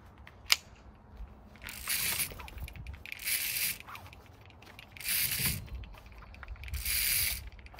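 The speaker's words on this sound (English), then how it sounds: "I like pulleys that make ratcheting noises" Several bursts of mechanical ratcheting whir from a Petzl tree-work rigging pulley, each lasting about a second, with a sharp click near the start.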